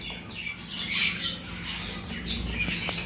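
A pet cockatiel in a bird seller's cage squawks in short, shrill bursts, several harsh calls near and loud with no talk.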